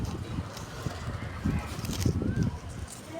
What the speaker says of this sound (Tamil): காற்று நல்லா அடிக்குது